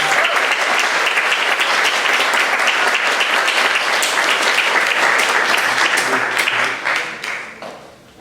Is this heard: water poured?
no